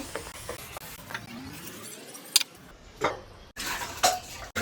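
Chicken mixed with turmeric and salt in a pan makes close clinks and scrapes of a utensil against the metal, in short bursts with quiet gaps between them, and no talking.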